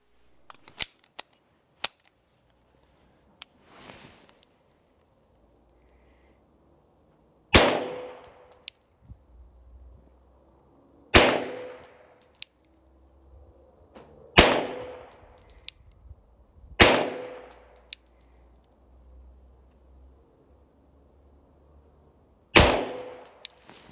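Tisas 2011 Carry DS pistol fired from 25 yards: five sharp, loud reports spaced a few seconds apart, each with a short ringing echo tail, with a few faint clicks and quiet stretches before the first shot.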